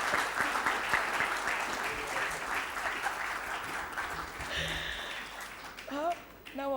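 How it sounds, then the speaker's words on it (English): An audience at a book launch applauds for a guest, a dense, steady clapping from many hands that fades out as voices and a short laugh come in near the end. "Now you bloody well clap for me"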